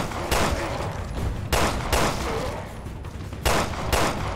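Gunfire in the video game Resident Evil Revelations 2, three heavy bursts of rapid shots over a dense, noisy game soundscape.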